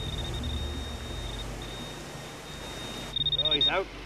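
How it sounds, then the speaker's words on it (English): Rapid electronic beeps from a metal detector, about eight in quick succession, ring out near the end over a steady hum and low murmuring voices. "With a little help from Gary, I've finally found the source of all that beeping"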